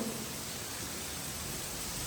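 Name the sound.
rain falling outside a villa sit-out area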